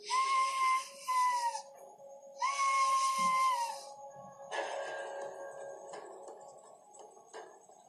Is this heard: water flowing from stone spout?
no